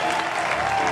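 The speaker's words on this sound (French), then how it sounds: "J'aimerais encore qu'on applaudisse très fort, s'il vous plaît" A short, thick burst of audience applause for the performer Salmo at a live show, loud and continuous, with faint voices beneath.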